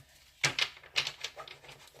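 Tarot cards shuffled aggressively against a loud desk surface, giving a close burst of sharp riffling clatters in quick uneven rhythm after a short quiet start.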